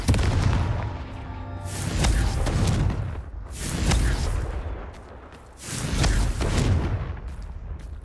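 Confringo blasting-spell explosions in a Harry Potter video game, three heavy booming bursts in a row, each a loud rumbling blast that swells and fades before the next one hits.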